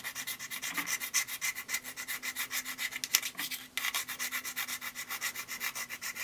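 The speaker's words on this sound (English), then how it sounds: "we're going to be really trying to scratch it with this key" A key scrapes back and forth across the aluminum back of an iPhone 5 in a fast, steady rhythm of close, gritty rubbing strokes with a brief pause partway through.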